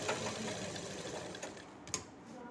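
A sewing machine stitches salwar fabric, its needle running in a fast, even mechanical whirr close by, with a couple of brief clicks near the end.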